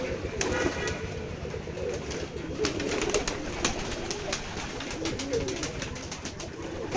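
Pigeons on a farm in Jessore, Keshabpur, with soft cooing close by over a steady background hum and occasional clicks.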